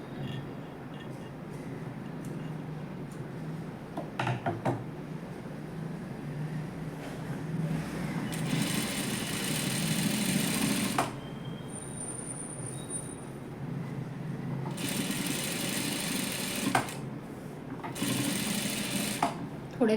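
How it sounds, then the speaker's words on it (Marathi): Sewing machine topstitching around a blouse neckline, a rapid whirring mechanical rattle in several bursts of a few seconds each, close and moderately loud, with someone talking over the quieter stretches. "ह्याच्यावर दाब शिलाई मारायची सगळीकडून गळ्याच्या भोवती"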